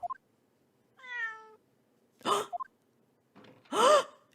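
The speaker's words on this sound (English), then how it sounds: "Cat!" A cat meows in the video game The Great Ace Attorney, giving a drawn-out tonal meow and a later, louder meow, mixed with short breathy game vocal sounds over a soft background.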